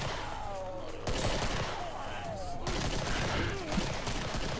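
Rapid bursts of gunfire crackle and rattle in the Killing Floor shooter game's Halloween Toy Master mod, loud and nearly continuous throughout, with brief voices mixed in among the shots.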